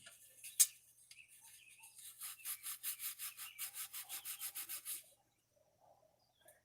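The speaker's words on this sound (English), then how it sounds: "I'm over here rubbing hard" Hard hand rubbing on a hot rod part, a quick run of short scrapes that settles into about a dozen steady back-and-forth strokes, close and moderately loud, then stops into near silence.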